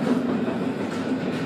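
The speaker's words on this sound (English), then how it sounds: "we are in the train station" Inside a train station a passing train gives a steady, moderately loud rumble with faint rhythmic clatter, continuous throughout with no voices.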